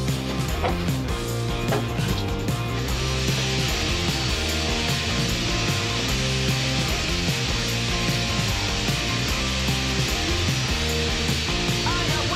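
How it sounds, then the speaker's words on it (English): A Flexisander power sander works steadily across a boat hull, giving a continuous, loud, broadband whir and rasp that runs the whole time with no pauses. "I am gonna use that new, the Flexisander, and take away a lot of that longboarding"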